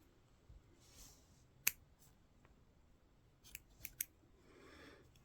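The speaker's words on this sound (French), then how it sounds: "Donc ici on coupe les 4 couches" Scissors snip through four layers of fabric at a corner: one crisp close cut, then after a pause a few quicker snips, with faint rustling of cloth in between.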